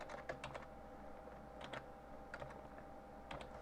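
Clicky keystrokes on a computer keyboard come in short bursts of several taps with pauses between them, fairly close and moderately quiet, over a steady low room hum.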